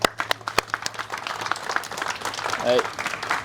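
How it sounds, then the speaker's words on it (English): A press conference audience greets Baltimore artist Ernest Shaw with applause, a few distinct nearby claps opening into a denser crowd of clapping, with voices and talk underneath. "give him a round of applause"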